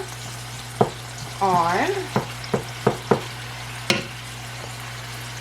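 Taco meat frying in a pan while a wooden paddle breaks it up, soft sizzle under a series of distinct taps and scrapes against the pan, with a brief spoken word.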